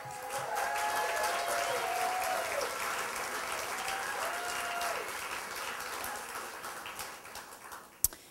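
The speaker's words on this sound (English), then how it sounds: "Let us applaud you." Audience applause for the host committee at a marriage equality celebration event, a dense sustained clapping crowd with faint voices calling out underneath, gradually thinning near the end before a single sharp knock.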